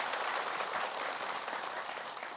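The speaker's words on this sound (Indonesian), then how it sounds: "Boleh tepuk tangan Ibu" Steady applause from an audience at an Indonesian religious talk show, dense and even clapping that fills the whole stretch without any talk over it.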